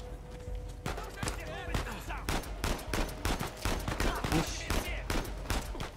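Gunfire in the video game Uncharted 4, a rapid series of sharp gunshots and bursts crackling throughout, fairly loud and dense, with some voice in the mix.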